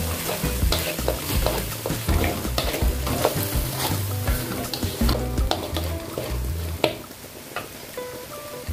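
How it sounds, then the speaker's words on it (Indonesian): Food sizzling and frying in a pan while being stirred, with steady spatula scrapes and clatter over a continuous loud sizzle, no talking. "Ini kita aduk."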